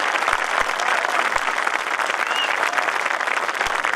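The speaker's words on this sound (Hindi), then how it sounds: "उठाइए जोरदार तालियां।" Loud, steady applause from a crowd, dense clapping that fills the whole stretch without pause.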